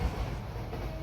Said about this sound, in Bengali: আর এটা আমরা এখন ট্রেনের মধ্যে আছি।